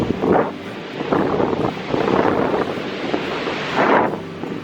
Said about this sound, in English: I know it's windy, probably noisy, but we decided to take a little walk out to the beach here.